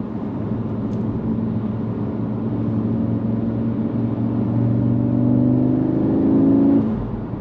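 A 2022 Audi S3 engine drones steadily while driving on a Colorado mountain road, a loud, close, continuous rumble that climbs slightly in pitch toward the end, with no talking.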